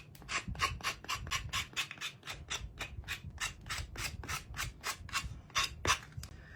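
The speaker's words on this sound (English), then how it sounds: "now we've got it all sanded" Edges of a small wooden mini cutting board being sanded by hand, a rhythmic series of close, raspy back-and-forth strokes, about two per second, loud and steady with no talk.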